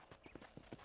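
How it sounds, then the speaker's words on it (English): Horse hooves clip-clop in quick rhythmic beats during a ride in Red Dead Redemption, several close, faint hoof strikes in under a second. "let's see if you can still ride a horse."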